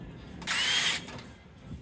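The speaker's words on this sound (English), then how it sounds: "First you have to drill a hole." A power drill, used on a new van during a window install, gives one short, fairly quiet whirring burst of under half a second amid low background noise.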